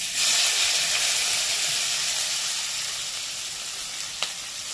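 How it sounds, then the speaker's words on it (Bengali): Chopped onions fry in hot oil for an egg curry, a loud, continuous close-up sizzle with steady hiss and one brief clink partway through, no talking. "এবার পেঁয়াজটাকে পুরো ভালো করে ভেজে নেব।"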